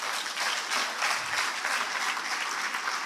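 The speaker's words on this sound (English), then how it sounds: "please, again, give His Excellency a round of applause" Audience applause at a regional social work conference, a steady wash of many hands clapping together, fairly far off and even in level throughout with no voices over it.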